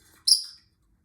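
A pet budgie or lovebird gives one short, bright chirp close by, followed by quiet.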